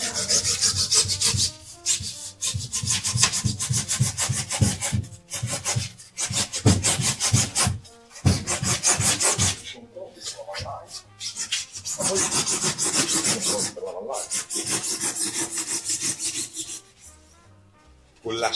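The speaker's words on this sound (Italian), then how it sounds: "con la sega giapponese" Rhythmic rasping of a Japanese saw cutting wood, quick back-and-forth strokes in bursts with short pauses between, close and fairly loud.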